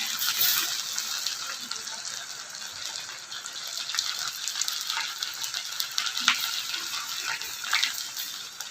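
Potato french fries coated in corn flour and rice flour hiss in hot oil with a dense, steady sizzle and scattered crackles, close and fairly loud.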